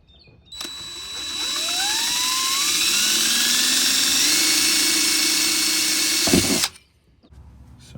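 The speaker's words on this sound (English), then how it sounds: "now we're putting the holes in where the screws go" A power drill bores screw holes in a campervan, with a loud sustained whine that rises in pitch as it spins up, holds for several seconds, then cuts off.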